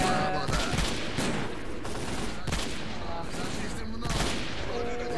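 Gunfire in the shooter game Lost Alpha during a forest firefight, rapid overlapping shots and bursts in continuous chaotic volleys, with a voice talking faintly underneath.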